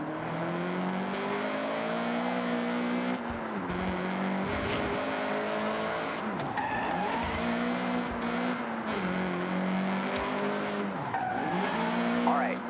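A Honda CRX in the Forza Horizon racing game, its engine revving up through rising gear changes while tires squeal and skid, loud and continuous throughout.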